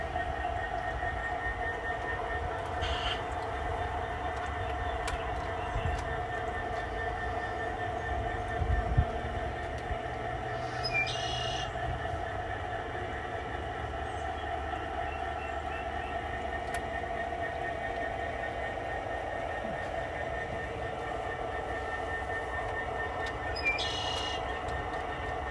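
A G scale model coal train makes a mine run on a layout. Its wheels give a steady rolling rumble throughout, broken by a few faint clicks and squeaks.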